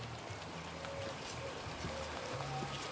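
Rain falls outdoors at a rural villa garden near large water tanks in Carmona, Seville, a soft, steady hiss of drops that stays faint and even throughout.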